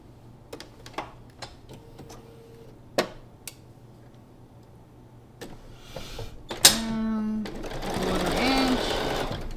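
Sewing machine stitching quarter-inch seams on a quilt block, heard as short clicks and bursts of motor whir followed by a longer steady run toward the end.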